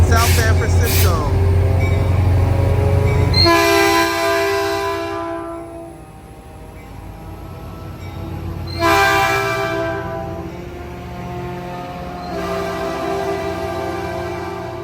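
Caltrain 414 bound for San Francisco rolls through Redwood City station, its horn blaring in repeated loud, sustained harmonic blasts over rumbling wheels, with someone talking in the opening seconds.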